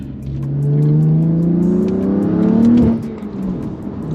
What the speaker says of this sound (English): Rolling around in your new M3.